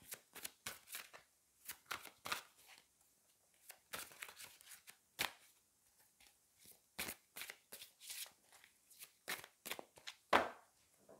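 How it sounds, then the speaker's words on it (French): Tarot cards handled and shuffled close up, quiet irregular flicks and snaps with short pauses, no talking. "Et on va prendre 3 cartes."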